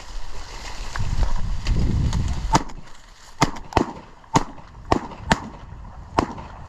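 Shotguns fire during a goose hunt outdoors, several sharp reports cracking in an uneven sequence after a rumble of wind or movement, some sounding nearer and others farther off.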